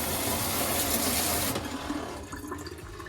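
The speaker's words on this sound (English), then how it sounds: "I actually set up a pump back here that draws from the ocean." Onboard pump drawing ocean water for saltwater washdown on an off-grid sailboat: a loud gush of running, splashing water that cuts off sharply partway, leaving quieter trickles and drips.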